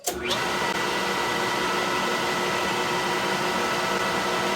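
A metal lathe turns at ultra slow speed while tapping a hole, giving a steady, close mechanical whir and hum that continues evenly throughout, with no talking.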